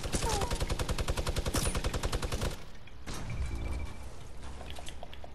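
Automatic gunfire in Fortnite rattles in a fast, loud burst for a couple of seconds, followed by quieter scattered in-game sounds, with players talking around it.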